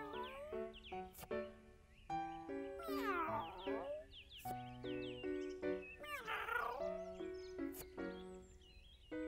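Cartoon cat meowing in a children's animation, several bright sliding meows mixed with playful musical tones and other animal-like calls, moderately faint.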